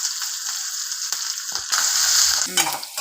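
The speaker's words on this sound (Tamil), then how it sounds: "வெங்காயம் நல்லா பொன்னிறமாக வதங்கிருச்சு பாருங்கள்" Onions, curry leaves and green chilli frying in hot oil with fennel seeds for an egg kurma, a steady bright sizzle with stirring scrapes, swelling louder midway, no voices.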